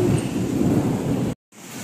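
A thunderstorm's heavy, close rumble of thunder rolls over rain for over a second, then cuts off to brief silence before the rain and rumble resume more softly.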